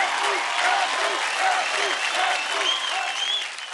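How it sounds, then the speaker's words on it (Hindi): Studio audience on a TV dance show breaking into loud sustained applause and cheering, with a few voices calling out over the clapping. "जोरदार तालियां हो जाए गीता की गैंग से राजस्मिता के लिए."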